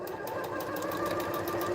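A sewing machine chain pieces sweater quilt blocks in one short, steady burst of rapid stitching, close and even, with no talking.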